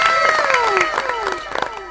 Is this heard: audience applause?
yes